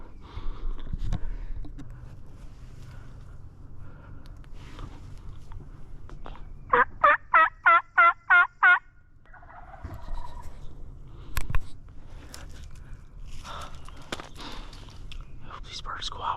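Wild turkeys gobble during a spring hunt in open hills, with one distant, clear rattling gobble of rapid pulses standing out mid-clip against quiet outdoor ambience, rustling, and soft whispered talk nearby.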